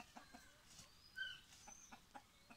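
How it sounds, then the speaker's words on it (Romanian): Backyard chickens at a grandmother's rural home, some hens with injured combs, cluck in soft repeated bursts at a moderate distance, with a brief higher call mid-clip and no talking. "Găinușele"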